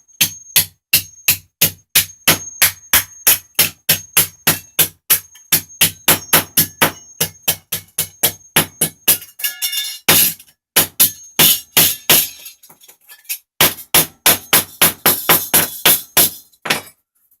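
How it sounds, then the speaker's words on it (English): A hammer pounds a copper pipe flat over and over in a fast, steady rhythm, loud and close, with a few brief pauses between runs of blows. "you're going to take a hammer, and it's an ordinary hammer"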